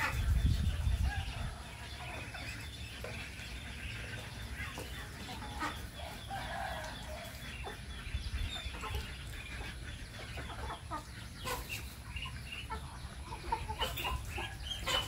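Backyard chickens cluck and a rooster calls intermittently over a steady rural background, the bird sounds fairly close and scattered across the stretch.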